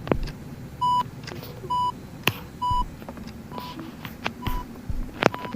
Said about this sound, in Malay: Connect heart monitor.